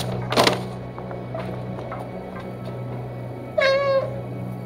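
A cat meows once, clear and close, in the video game Stray, following a sharp thump and quiet mechanical ambience, with no talking.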